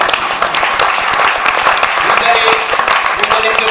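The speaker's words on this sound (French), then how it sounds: "Merci de l'applaudir." Audience applause at a live comedy show in a theater hall, a dense steady wash of many hands clapping for several seconds, loud and close, with a little voice mixed in.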